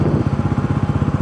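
A Bajaj Pulsar NS400 motorcycle rolls along in fourth gear with no throttle, its engine giving a steady, low, pulsing thrum that stays loud and close throughout the short stretch, with no voices over it.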